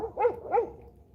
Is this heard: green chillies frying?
no